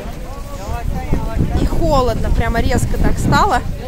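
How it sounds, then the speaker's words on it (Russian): Strong wind buffets the microphone with a heavy low rumble while people talk over it at an outdoor Turkish market in Kepez, in January. "Очень большой ветер."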